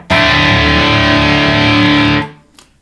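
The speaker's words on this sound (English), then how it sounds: "now we're going to have a look at the ultra gain channel. This is the primary distortion channel." An electric guitar plays through the ultra gain distortion channel of a Marshall DLS 20 H amp, a single loud, thick, saturated chord sustained for about two seconds before cutting off sharply into a brief faint tail.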